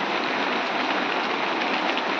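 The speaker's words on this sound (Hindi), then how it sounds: "बारिश आ गई बाहर यार।" Steady rain pours outside during the apple season, a dense, even hiss of drops hitting surfaces, constant and fairly loud, with no voices.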